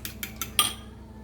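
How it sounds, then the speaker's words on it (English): Eggs being whisked in a bowl for bacon-weave breakfast tacos: four quick, close metallic taps of the utensil against the bowl in a brief burst, over a faint background hum. "Continue whisking the eggs."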